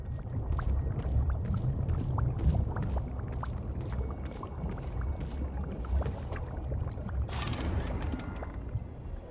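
Water bubbles and gurgles in the video game Ghostwire: Tokyo as a continuous, moderately loud burble with repeated soft pops. A brief hissy swell rises near the end.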